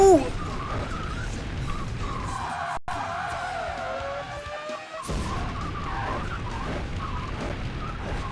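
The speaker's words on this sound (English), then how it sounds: "Can I just cut the engine audio for this thing?" A car engine drones in Burnout Legends while tires skid and squeal repeatedly at close range. The engine cuts out briefly in the middle before the racing roar returns, loud and continuous.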